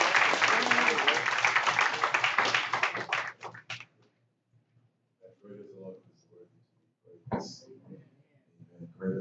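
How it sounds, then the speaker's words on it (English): A church congregation at a homecoming service at Valley Grove C.M.E. Church in Cushion, Texas, claps loudly for about four seconds, then the clapping dies away into near quiet with faint scattered voices and small sounds. "Let us give him a hand clap."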